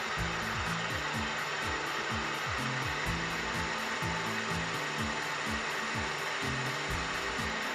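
Wood lathe running in reverse while turning a sycamore piece, giving a steady mechanical hum with a fast, regular clicking rattle repeating throughout at an even volume and no speech.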